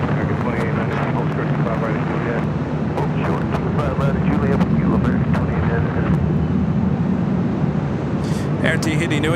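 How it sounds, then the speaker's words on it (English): Boeing 787-9 Dreamliner airliner departing LAX, a steady, loud broadband jet roar that holds throughout with wind buffeting on the microphone and voices talking underneath. "787-9 Dreamliner heading up for a north side departure."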